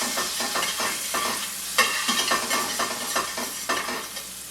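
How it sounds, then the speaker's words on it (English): Garlic in frying oil sizzles and crackles loudly and steadily, with stirring scrapes giving it an uneven, rhythmic texture; no one speaks. "I'm sure you can hear it sizzling."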